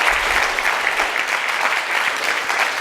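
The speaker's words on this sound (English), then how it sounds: "Round of applause. Let's do a hand clap." Steady applause and hand clapping from a room of students at a leadership speaker series event, a dense continuous patter of many hands at constant loudness with no voices over it.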